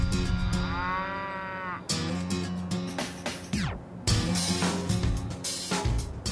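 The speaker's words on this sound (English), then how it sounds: "we're going to meet the prize-winning herd of longhorn cattle, an entire paddock of clones." Prize-winning longhorn cattle in a paddock low and moo repeatedly, several long, close, loud calls overlapping one another with short gaps between them, and no talk.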